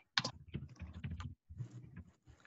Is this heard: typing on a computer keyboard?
yes